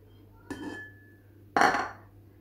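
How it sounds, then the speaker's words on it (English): Two close kitchen clinks as egg whites are tipped into a bowl while making a lemon magic cake, a light knock followed a second later by a louder, ringing clatter against the bowl. "Just putting my 2 egg whites in a bowl"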